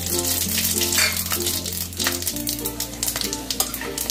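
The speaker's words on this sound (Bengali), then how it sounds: "মেথি আর রাঁধুনিটা রেখেছিলাম, ফোড়ন দিয়ে দিলাম।" Fenugreek and radhuni seeds spluttering in hot oil for a Bengali shukto tempering, a close crackling sizzle with sharp pops over a steady hum.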